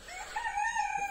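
A rooster crows once, close and clear, in a backyard flock of hens and several roosters. The call rises into a sustained tonal cock-a-doodle-doo with no talking over it.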